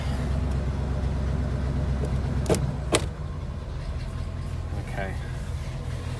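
A hearse engine runs on choke with a steady, loud low rumble, and a couple of sharp clicks are heard partway through. Someone speaks briefly over it.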